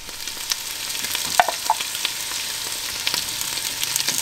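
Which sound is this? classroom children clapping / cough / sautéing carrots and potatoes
sautéing carrots and potatoes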